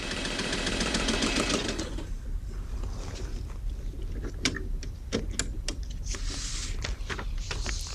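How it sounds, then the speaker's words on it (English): A QUIP facsimile machine printing a transmitted page, with a fast rhythmic mechanical buzzing at first that gives way to a string of sharp, separate clicks and ticks, close and fairly quiet. "It takes only 2 minutes to transmit a full page on a standard QUIP machine."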